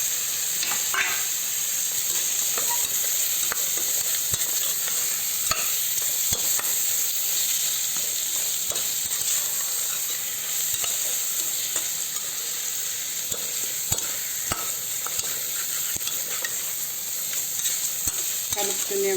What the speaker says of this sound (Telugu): కలుపుతూనే ఉండండి. లేకుంటే అడుగు, మనం అల్లం వెల్లుల్లి పేస్ట్ చేస్తాం కాబట్టి అడుగు పట్టుకుంటుంది